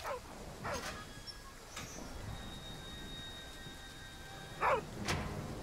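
A small pet dog barks in the underwater game Deep Beyond, a handful of short, fairly quiet yaps spaced through a soft ambient background with faint tonal hums.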